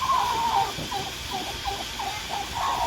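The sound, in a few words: mother hen clucking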